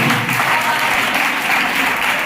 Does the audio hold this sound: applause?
yes